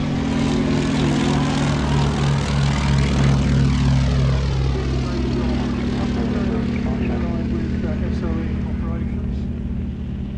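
Vintage propeller aircraft fly at a Shuttleworth air display, a loud sustained engine drone with a low throbbing hum and a pitch sweep as one passes, mixed with an announcer speaking over a public address.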